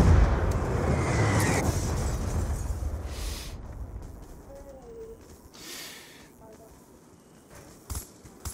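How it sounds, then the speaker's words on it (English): A Hellstorm missile strike in Black Ops 2 lands as a heavy booming explosion at the start, its rumble decaying over several seconds into quieter game ambience with a few faint distant pops near the end. "Hellstorm missile inbound."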